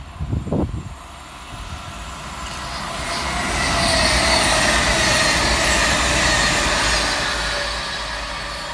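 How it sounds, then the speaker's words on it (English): A Class 221 CrossCountry diesel train running southbound through Heaton Chapel station, a steady loud rolling roar with rail noise building and holding as it passes close by, after a brief thump at the start. "Going southbound for cross country will be 221-120, working 1 Victor 51 from Manchester Piccadilly through to Bristol Temple Meads."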